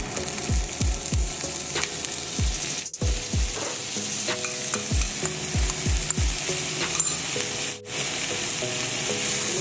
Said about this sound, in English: The main reason why I fry my bacon before adding this sometimes is that I want the bacon to be a little bit well cooked